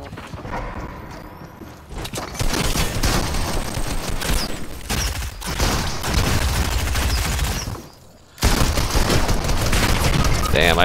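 A player pours bullets into an opponent in Fortnite: loud, close bursts of rapid gunfire that stop abruptly and then resume, mixed with clattering game effects and a voice talking at times.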